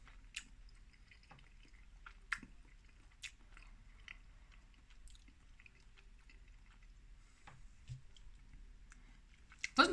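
A Hunger Breaks All Day Breakfast snack tube is chewed close up, giving soft, quiet crunching and bites spread across a mostly hushed stretch, with a louder crunch at the end.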